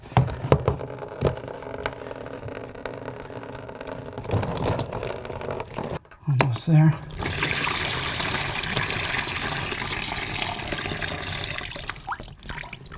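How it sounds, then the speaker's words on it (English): Water trickles and splashes steadily out of a toilet tank into a pan during a fill-valve replacement, close by, with a brief pause partway through and a couple of words spoken. "that's when the water is going to start flowing out"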